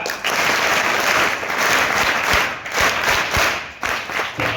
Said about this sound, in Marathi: तुमच्या काही टाळ्या वाजवा